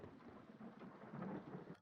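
Thunderstorm and rain sound effects from the 1981 film An American Werewolf in London, a faint low rumble of thunder rolling beneath a soft wash of steady rain.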